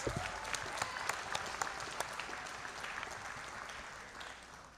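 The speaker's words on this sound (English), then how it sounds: "Let's give them an applause for supporting our programs." Audience at an adult basic education high school equivalency graduation ceremony claps in thanks for program supporters, a steady wash of many hands with a few sharp nearby claps, fading slightly toward the end.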